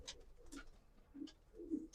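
A pure Fauji-line pigeon coos softly and closely, a few low rounded coos spaced across a quiet moment with no talk.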